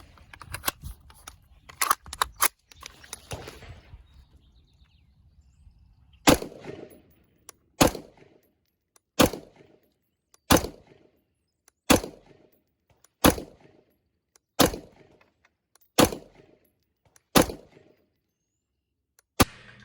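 An IWI Tavor 95 rifle with a 7-inch barrel is fired offhand at 25 yards: about ten loud, sharp shots at a slow, even pace, each ringing off, after a stretch of scattered clanks and rustling.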